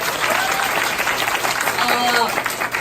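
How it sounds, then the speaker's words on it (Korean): Audience applause at a group meeting lecture, dense and continuous clapping from a crowd throughout, with some murmur mixed in. "다시 한번 응원의 박수 부탁드리겠습니다."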